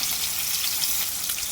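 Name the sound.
fish frying in a pan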